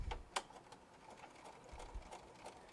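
A sewing machine back-stitches through purse fabric near a D-ring, giving a soft, steady mechanical whir with a few sharper clicks at the start, heard alone at low level.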